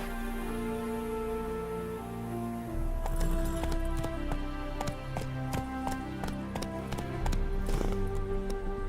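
Horse galloping in The Witcher III, rapid rhythmic hoofbeats that start about three seconds in and carry on steadily over layered game music.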